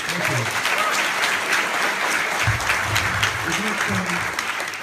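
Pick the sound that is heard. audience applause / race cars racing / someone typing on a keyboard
audience applause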